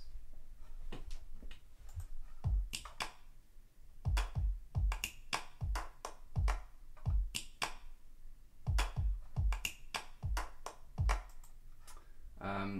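A produced beat of layered, crisp clicks and snappy claps, some panned wide and others kept central, repeats in a steady rhythm with deep low thumps under each hit, loud and close, with no voices.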